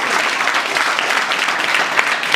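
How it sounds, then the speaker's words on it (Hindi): Students in a low-cost coaching class in Bihar break into dense, steady applause, a loud continuous wash of many hands clapping together for the whole stretch, with no talking over it. "ताली बजाइए।"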